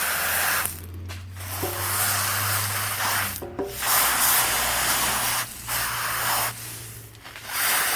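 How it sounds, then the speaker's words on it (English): Freeze spray hisses in several sustained bursts onto a part of a 1953 Kriesler Model 11-30 radiogram under restoration, the long broadband spray broken by short pauses and scraping rubs, close and fairly loud. "Put some freeze spray on here."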